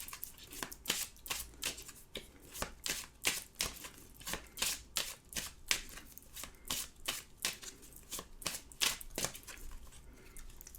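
Oracle cards being shuffled and handled in a quiet room, a run of crisp close riffling snaps and slaps in an uneven rhythm, nearly alone.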